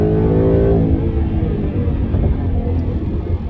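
A Ford Mustang engine revs hard then settles into a steady, fairly restrained exhaust rumble in quiet exhaust mode, loud and close, with no talking.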